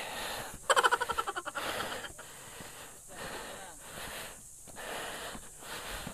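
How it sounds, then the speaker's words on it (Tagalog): Heavy, rapid panting breaths up close after walking uphill, a quick rhythmic burst early on followed by slower, deep wheezing inhales and exhales with no talking. "Kita nyo yung hingal ko, diba?"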